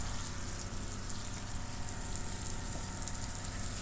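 A self-priming water pump in a converted Transit van runs steadily, drawing from a 7-gallon tank, a faint continuous hum mixed with flowing water.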